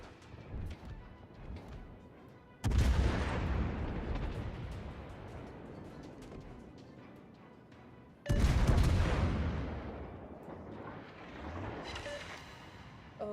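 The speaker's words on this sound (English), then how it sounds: "Concentrate fire on the designated target." Naval artillery salvos in the World of Warships video game: two heavy, booming blasts several seconds apart, each followed by a long rumbling decay, with quieter gunfire and battle noise continuing between them.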